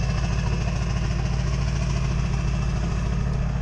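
A Ford 7.3 Powerstroke diesel truck engine idles on a cold start with a 5-inch straight pipe and 6-inch tip, a steady, deep chugging rumble and constant low vibration, uninterrupted and close by.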